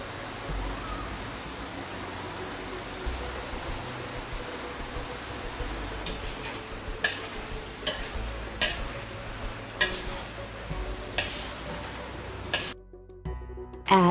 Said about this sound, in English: Stir the lamb liver over medium heat.